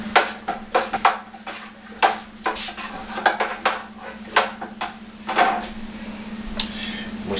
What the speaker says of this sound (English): We're going to stir that with a sanitized spoon.